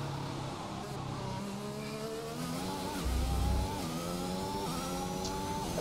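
Formula 1 car engines in the game F1 2021 drone steadily at the Bahrain Grand Prix with rising and falling pitch, several layered cars revving and shifting, with a brief louder low rumble midway.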